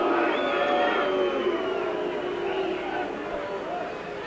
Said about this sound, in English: Crowd not happy.